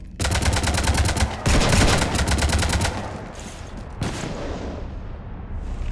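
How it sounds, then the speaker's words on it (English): Rapid automatic gunfire in Mass Effect Legendary Edition, a loud, tightly spaced stream of shots lasting about three seconds with heavy thumps mixed in, then fading into scattered echoing impacts and a lingering rumble. "You want to stop shooting up my ship?"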